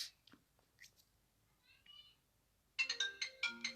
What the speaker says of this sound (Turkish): Telefon çalıyor telefon.